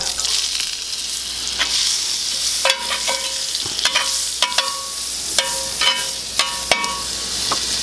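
Butter sizzles on a hot griddle before a smash burger patty goes down, a steady broadband hiss broken by several sharp metal clacks and scrapes from a spatula, close and fairly loud.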